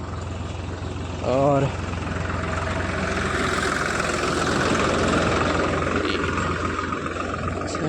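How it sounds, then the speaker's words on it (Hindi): A tractor engine on a rural road, heading out to plough fields, rumbles steadily from behind with a low idling drone throughout, while a voice briefly speaks over it. "पीछे से एक ट्रैक्टर आ रहा है"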